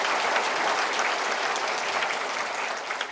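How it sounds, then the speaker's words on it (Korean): Steady, dense applause from a seated audience at a Korean Ministry of Justice Correction Day anniversary ceremony, sustained and even throughout with no voices standing out. "다시 한번 박수 부탁드립니다"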